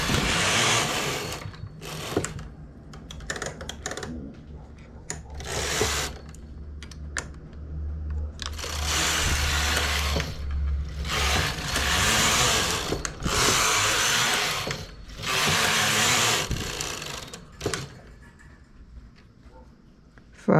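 A knitting machine works across a vest open at the sides, its carriage giving repeated rasping sweeps of a few seconds each with short mechanical clicks between them, close and fairly loud, with no talk over it.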